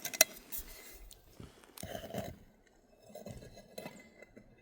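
Metal pieces of a vintage Swiss Army rocket stove kit clinking and clattering as they are taken out, several sharp clinks and scraping handling knocks, close and intermittent, with no talk.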